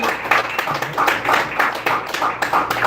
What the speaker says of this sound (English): Clap it up for the comedy silence of Zach Mandel.